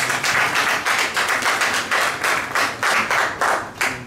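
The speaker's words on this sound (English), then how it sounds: "give yourselves a round of applause" Hands clap at a repatriation and investment conference in Ghana, heard close as a rhythmic series of about a dozen sharp, evenly spaced claps rather than a full crowd ovation.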